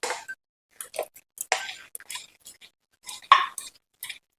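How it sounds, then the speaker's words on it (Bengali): A spoon stirs milk thickening in a pot over a low gas flame, giving short scraping clinks against the metal in an irregular rhythm, close and fairly quiet. "গ্যাসের ফ্লেমটাকে লো রেখে এটাকে নাড়াচাড়া করতে করতে দেখুন অনেকটাই দুধটা ঘন হয়ে যাচ্ছে"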